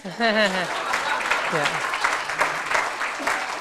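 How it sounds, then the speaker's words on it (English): An audience claps at a conference inauguration ceremony, a lively burst of applause that carries on steadily while someone speaks over it. "You have to clap for what I just said."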